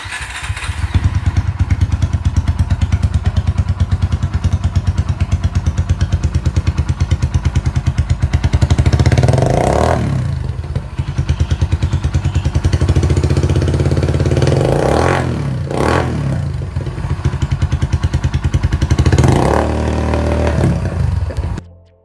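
A Kawasaki W200 motorcycle engine runs steadily and loudly up close, with a throbbing mid-pitched rumble and a few revving swells, continuing alone for about twenty seconds before cutting off.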